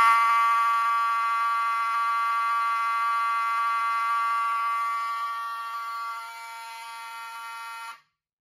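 An electronic fire alarm horn, a Fire-Lite 7002T on a Fire-Lite alarm panel, blares steadily with a harsh buzzing tone, loud and close, then cuts off abruptly near the end.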